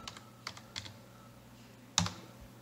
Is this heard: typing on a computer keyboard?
yes